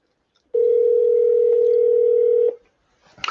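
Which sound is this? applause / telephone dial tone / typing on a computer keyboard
telephone dial tone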